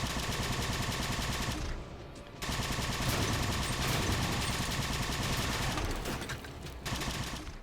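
Plasma cannon fire in the video game Halo 4, a dense, loud barrage of rapid energy shots that runs almost continuously, with a brief lull near two seconds before the firing resumes.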